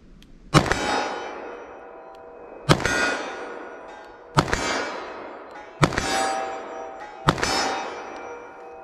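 Five .44 Magnum rounds, 240 grain, fired from 25 yards ring off a full size steel silhouette target, each a sharp, loud clang that decays quickly, spaced about one and a half seconds apart.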